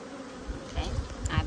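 Honeybees buzz around an open hive during an inspection, a close, continuous hum rising and thickening toward the end of a brief moment outdoors, with a light breath of wind.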